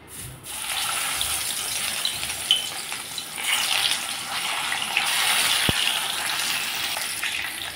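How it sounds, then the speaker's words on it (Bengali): Chital fish frying in hot mustard oil in a kadai, heard as a continuous loud hissing sizzle, close and steady, with a brief sharp click partway through. "মাছ ভাজার জন্য আমি কড়াইতে সরষের তেল দিয়ে দিলাম।"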